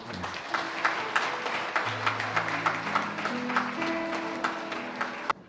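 Congregation clapping in a church service after new officers are appointed, sustained applause with a few sharp louder claps, while a low sustained organ or keyboard tone rises step by step underneath.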